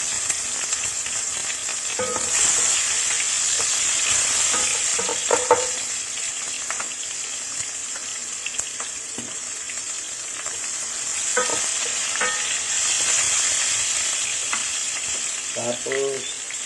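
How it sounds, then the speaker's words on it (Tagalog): Onion fries in a pan with a soft, steady sizzle, broken by occasional scraping clatters as it is stirred. "pagkatapos ng prito, lagyan natin ang sibuyas"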